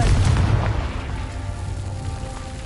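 Confringo fire spell explosion in a Hogwarts video game, a loud, deep booming blast that rolls off into a sustained rumbling roar.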